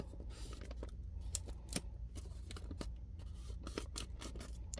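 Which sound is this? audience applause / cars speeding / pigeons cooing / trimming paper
trimming paper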